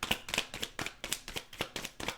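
Tarot cards shuffled by hand, a quick rhythmic run of about nine crisp riffling bursts, close and fairly quiet, with no voice.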